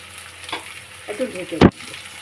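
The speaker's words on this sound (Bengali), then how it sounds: "এই যে ঝিঙে আলু মশলার সঙ্গে কষে নিয়েছি" Ridge gourd and potato chunks fry with spices in a pan, giving a few short sizzling bursts and stirring scrapes, ending in one loud close sizzle near the end.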